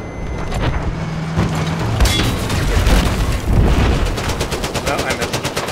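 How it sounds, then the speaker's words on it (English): C4 charges detonating in Battlefield 4 during close-quarters fighting on Golmud Railway: a heavy boom amid loud vehicle engine noise and rapid gunfire bursts, with sharp machine-gun rattle toward the end. "I've got some C4 for you"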